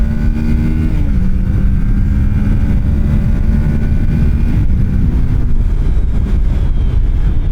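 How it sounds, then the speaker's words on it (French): A Kawasaki Ninja 650 motorcycle, warmed up, accelerates hard in a loud continuous run with rising engine pitch and heavy wind buffeting, with a gear change partway through and no talking. "on est reparti avec la petite Ninja 650 où là maintenant elle est chaude, donc je vais pouvoir enfin voir ce qu'elle a vraiment dans le ventre"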